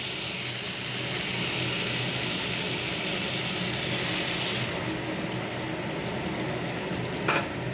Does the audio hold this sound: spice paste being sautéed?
yes